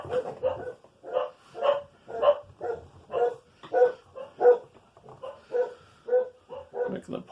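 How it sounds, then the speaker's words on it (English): Excited puppies bark in a steady run of short, sharp yips and bow-wows, close and fairly loud, with brief pauses between bursts and no talking. "Making the puppies all excited here."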